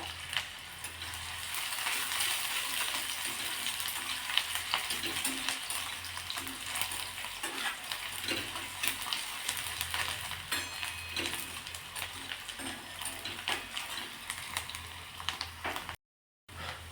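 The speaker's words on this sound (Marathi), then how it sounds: "कांदा सुद्धा तेलावरती परतून घ्यायचा" Onion sautéing in oil in a pan, a soft continuous sizzle with light clicks of stirring, quiet and close, running steadily without speech before a brief dropout near the end.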